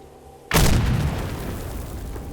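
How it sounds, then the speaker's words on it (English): Grenade blast in the video game STALKER with the Gunslinger mod: a sudden loud, close boom after half a second of quiet, followed by a long rumbling, crackling tail that fades slowly. "they're throwing grenades"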